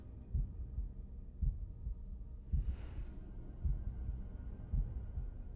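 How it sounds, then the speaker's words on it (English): A slow, muffled heartbeat from the video game The Room thumps in steady double pulses about once a second, low and close, with a faint whooshing swell in the middle. "That heartbeat is freaking me out."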